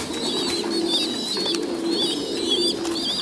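Low, rolling coos come from Thai Titan pigeons kept in a breeding loft, repeating every second or so above a steady background of other birds.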